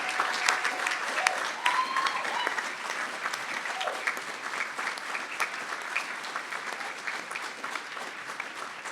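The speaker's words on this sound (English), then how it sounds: "please join me in giving them a round of applause" Steady, sustained applause from a large commencement audience honoring former Distinguished Teaching Award recipients, a dense wash of clapping running evenly throughout at moderate loudness.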